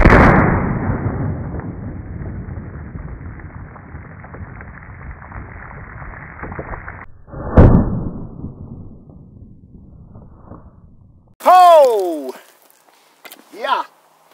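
A tactical 20 gauge pump shotgun fires buckshot at a water jug on a fence post: a loud, close blast opens and rings out, a second sharp report follows, then voices talk briefly.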